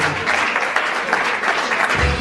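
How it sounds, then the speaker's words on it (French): Audience applause at the Nzonzing Awards ceremony held at Hotel Memling, a loud, continuous wash of clapping from a large crowd that fills the whole moment without any speech. "Alors, Papa Mabiokele va le représenter valablement sous nos applaudissements, s'il vous plaît, mesdames et messieurs."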